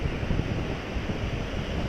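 Strong wind buffets the microphone in a constant, rumbling roar with no other sounds.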